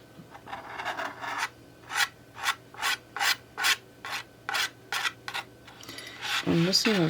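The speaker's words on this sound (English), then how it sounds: "I'm going to take my palette knife" A palette knife scrapes paint across watercolor board in about ten rhythmic, close strokes, each a short broadband rasp. A louder scrape comes near the end.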